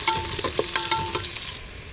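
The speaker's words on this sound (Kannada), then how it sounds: "ಈರುಳ್ಳಿ ಕಲಸಿ ಇದು ಬ್ರೌನ್ ಆಗೋದಂತ ಫ್ರೈ ಮಾಡ್ಕೋಬೇಕು." Onions fry toward brown in a pan with a bright steady sizzle and quick repeated spatula stirs, close and fairly loud, easing off toward the end, with no voices.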